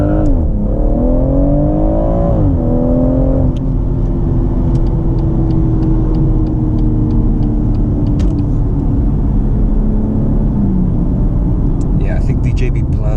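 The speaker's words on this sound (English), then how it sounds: "So let's do an acceleration from here and see if there's any difference." BMW M140i with a JB+ tune accelerating hard, engine note climbing through a gear, dropping at a shift, then droning steadily with a muffled rumble; close and loud inside the cabin, ending with brief clatter.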